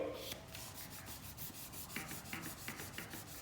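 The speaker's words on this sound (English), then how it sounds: "Rub it, rub it, rub it." Glued paper is rubbed down firmly by hand under a chin on a paper craft figure, giving a close, steady scratchy rubbing with repeated short strokes and no talking.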